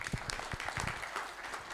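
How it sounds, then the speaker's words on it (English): Audience clapping at a conference summit, a light, scattered round of applause from a modest crowd, steady and fairly faint throughout. "please also clap a little hand"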